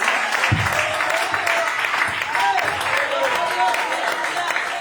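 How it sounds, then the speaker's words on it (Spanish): A church congregation at a Pentecost service applauds in a thick, continuous wash of clapping, with voices and cheers mixed in throughout. "Si ese aplauso es para el predicador, está bien, pero si es para Dios, déselo más fuerte"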